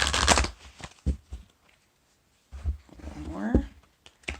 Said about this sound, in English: I'm just going to give a quick shuffle here.